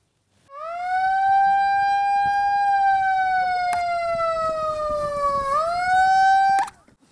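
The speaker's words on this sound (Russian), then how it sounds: "По звуку сирены участники слета спешат на построение." A siren at a tent camp in the Nenets district sounds to call tourist rally participants to line up, one long loud wail holding steady then dipping and rising before cutting off.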